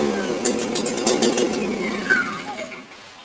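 DDE DPG1201i petrol generator engine running just after starting, a steady close mid-pitched drone with a slight fade toward the end.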